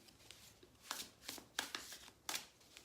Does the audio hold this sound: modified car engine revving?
no